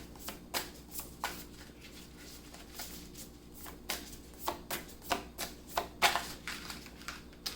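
Tarot cards being shuffled and drawn by hand, a soft series of quick riffling flicks and taps at close range, fairly quiet and irregular, with no talking.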